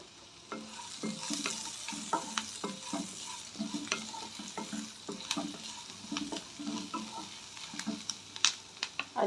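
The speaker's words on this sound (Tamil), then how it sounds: "வெங்காயம் கொஞ்சம் வதங்கட்டும்" Onions sauté in a pan for a mixed-vegetable kadamba chutney, a soft steady sizzle under constant busy spatula scraping and tapping, close but moderately quiet, with no speech.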